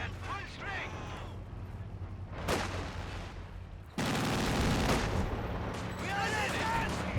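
Machine gun fire and battlefield explosions in Company of Heroes 2, bursts and booms crackling loudly across a dense war soundscape, with a commentator's voice talking over the action.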